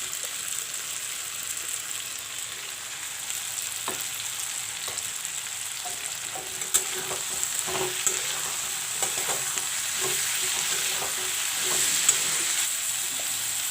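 Garlic paste and cumin paste fry in a hot pan for a saag dish, giving a steady close sizzle with scattered scraping stirs and small pops and no voices.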